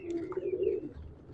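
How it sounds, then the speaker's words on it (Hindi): Low, soft cooing from caged pigeons, a steady murmuring coo that swells and fades close by with no talk over it. "एक ये कबूतर है"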